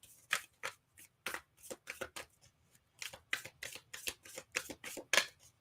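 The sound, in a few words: shuffling and pulling oracle guidance cards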